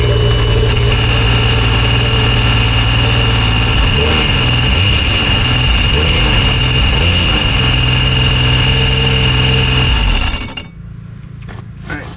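A Sea-Doo jet ski engine, pulled from a swamp, runs out of the water with a steady loud drone, rough low rumble and small clinks, then cuts off abruptly near the end.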